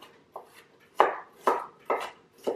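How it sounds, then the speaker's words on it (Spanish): A knife chops half a large onion into small pieces on a cutting board, five crisp close strokes at a steady, slightly uneven rhythm, with nothing else around them. "Es importante que lo corte en trocitos pequeños."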